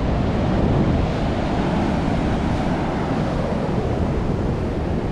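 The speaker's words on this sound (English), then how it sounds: "The size of the waves" Ocean waves break and wash continuously on a busy beach in Phuket, a loud, dense roar of surf mixed with wind buffeting the microphone, with no distinct pauses between waves.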